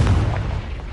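A Confringo blasting spell from Hogwarts Legacy detonates in a short, heavy boom with a deep low thump that quickly fades out.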